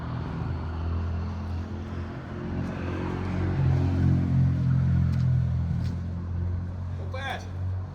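A 4-link Jeep YJ powered by an old 350 engine drives along with a deep, loud, continuous engine drone that swells and eases, with a faint squeak near the end.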